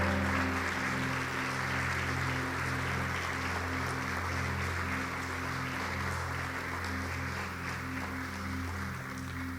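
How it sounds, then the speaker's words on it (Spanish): Church congregation clapping through a steady wash of applause, moderately loud and sustained, layered over low, sustained musical tones from instruments playing underneath. "Denle un aplauso al Señor."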